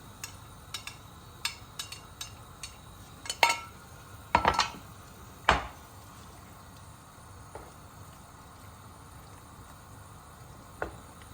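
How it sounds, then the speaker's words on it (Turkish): Sharp clinks and clatters of roasted jalapeño peppers dropping into a metal pot, a few louder knocks among lighter taps, over a soft steady bubbling hiss of boiling water. "Şimdi biberlerimi tenceremin içine hepsini koyuyorum."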